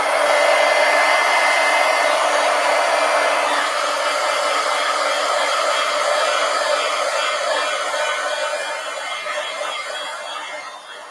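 A hair dryer blowing steadily on wet paint on paper, a close continuous whooshing hum that holds for about eleven seconds and eases slightly toward the end.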